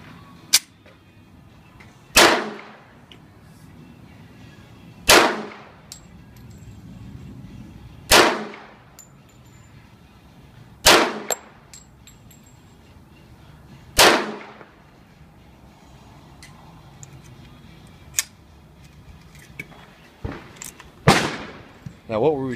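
A custom 1911 pistol fires 185-grain hollow-point custom loads outdoors. About eight sharp, loud cracks ring out, spaced a few seconds apart, with the last shots coming closer together.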